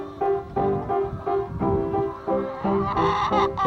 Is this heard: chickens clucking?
yes